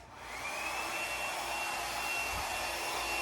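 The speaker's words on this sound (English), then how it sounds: "Dryer's on medium heat, low." A hair dryer set to medium heat blows steadily, a continuous close whooshing hiss with a faint whine that ramps up at the start and then holds even, alone without talk.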